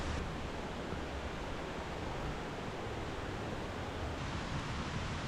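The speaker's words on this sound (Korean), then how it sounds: "물소리가 길을 안내합니다." A mountain stream flows beside a valley trail in Seoraksan. The water gives a steady, dense rushing wash that continues unbroken throughout, with no voices.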